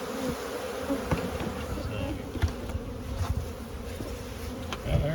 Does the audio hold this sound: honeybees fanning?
yes